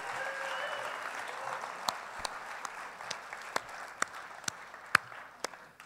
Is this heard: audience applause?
yes